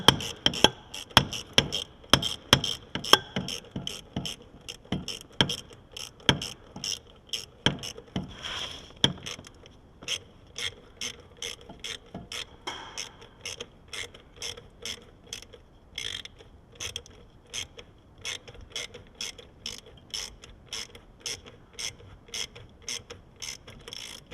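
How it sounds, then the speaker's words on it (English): A hand ratchet clicks in quick, steady bursts while loosening the factory hose clamp on the turbo of a 2011 Ram 2500, with sharp, close metallic ratcheting repeating throughout. "We're gonna get on that factory hose clamp off the turbo."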